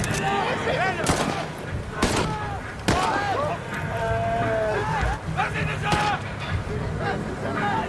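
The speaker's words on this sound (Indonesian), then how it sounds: "Tentara Belanda sangat panik dan membalas serangan dengan menembak ke segala arah." Dense bursts of gunfire crack repeatedly amid a loud battle scene, with sharp shots scattered throughout over a constant noisy background while voices call out.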